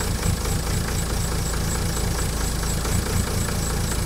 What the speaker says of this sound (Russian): Задача прогреть мотор